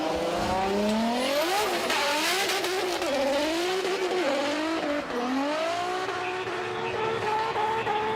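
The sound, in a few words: Nissan 180SX drift car starting qualifying run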